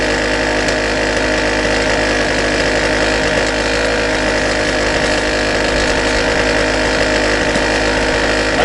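Power drill with a titanium-coated 8.2–8.5 mm bit: a steady, loud motor whine held without a break for the whole stretch, with a rough, grinding texture throughout.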